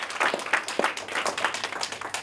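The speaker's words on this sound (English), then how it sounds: "Let's give ourselves a big round of applause." Scattered hand claps from a small group, fairly faint and uneven, a light patter of applause lasting a couple of seconds.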